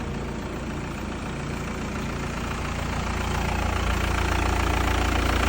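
A diesel or petrol car engine idles loudly and steadily up close during hydrogen decarbonizing treatment, a constant low rumble with a slight rhythmic knock and no voices.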